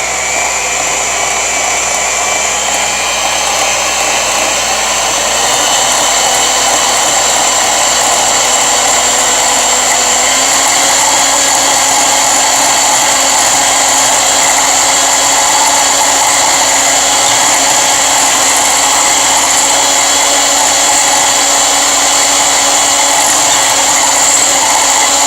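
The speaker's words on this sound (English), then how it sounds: "I take my hand mixer with 1 beater attachment" An electric hand mixer fitted with a single beater whirs steadily and loudly as it mixes cake batter in a small container, its motor pitch shifting slightly, with no talking.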